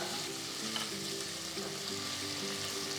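Potato pieces, cut from a medium potato, fry in an oil-filled pan for palak pulao, giving a steady broadband sizzle with faint stirring scrapes throughout, no voices.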